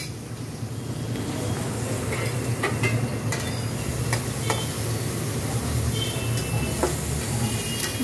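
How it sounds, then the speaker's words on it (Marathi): A Marathi-style tempering (phodni) of spices in hot oil sizzles steadily in a pan while being stirred, a continuous close hiss with occasional small pops and scrapes. "आता आपली फोडणी झाली आहे"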